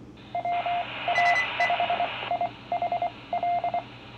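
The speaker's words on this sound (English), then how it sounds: "those tones that you heard means that it came back to me" A ham radio repeater sends back a short series of electronic tones, with clipped beeps in quick irregular groups over a faint radio hiss, fairly close and clear.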